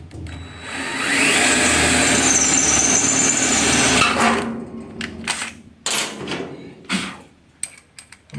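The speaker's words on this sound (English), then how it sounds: "Now I'm just going to drill the back." A power drill bores mounting holes for a roll cage in a 1966 Ford Bronco, a loud sustained whine for about three seconds, then bursts of clanks, scrapes and handling noises.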